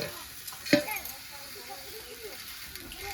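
A roti cooks with ghee on a hot tawa, giving a soft, steady sizzle with one sharp metallic clink of a utensil early on, and faint voices murmur in the background.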